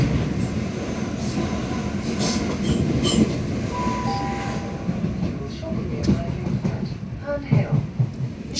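Southeastern passenger train travelling from Orpington to Victoria, heard from inside the carriage as a loud rumbling ride with rhythmic wheel clatter, a brief squeal and occasional knocks.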